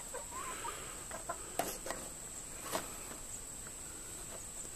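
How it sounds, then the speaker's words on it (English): Backyard chickens clucking softly at a distance, a few scattered short clucks over a faint steady background hum and outdoor ambience, with no voices. "And that's the chickens."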